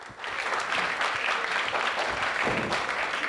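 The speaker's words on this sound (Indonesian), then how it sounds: "tepuk tangan buat James. Tepuk tangan lagi." An audience at a game-show style event gives sustained, steady applause, many hands clapping at a moderate distance for the whole stretch.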